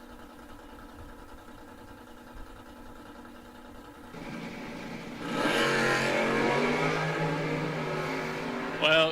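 A 1968 Dodge Super Bee drag racing car at a drag strip starts with a low idle rumble, then its engine swells into a loud, sustained roar as it launches.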